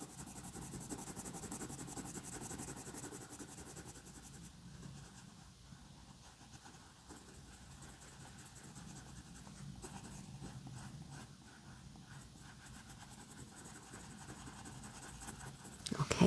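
Graphite coloured pencil shading on paper, building up two layers of a drawing of a paint palette: steady close scratchy strokes running continuously, with a brief louder rub at the very end.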